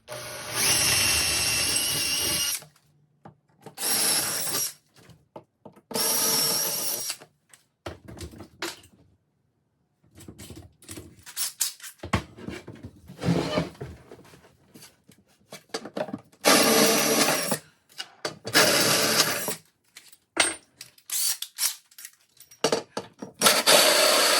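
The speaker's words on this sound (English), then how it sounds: "I'll drill the rest with the bigger drills from the top" A power drill bores mounting holes from the top for a Samsung over-the-range microwave, giving repeated loud bursts of whirring and grinding separated by short silent pauses.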